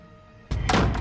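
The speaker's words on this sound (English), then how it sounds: "There's a knock at the door." A huge door knocker strikes a door once, a sudden loud booming thud that breaks a quiet room and rings on briefly through the house.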